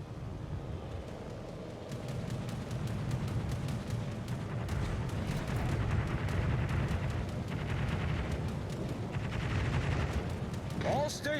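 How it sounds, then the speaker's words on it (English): Sustained rapid gunfire from the Thunderer weapon in a ranked video game match, a dense stream of shots rattling continuously for several seconds at moderate volume, ending with a brief electronic tone. "They take shots from the Thunderer now"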